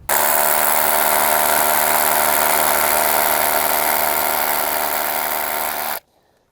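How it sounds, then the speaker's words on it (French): A power drill bores into hard rock to set a bolt anchor, a loud, steady high-pitched whine held continuously for about six seconds before cutting off abruptly. "Et là, je peux commencer à percer."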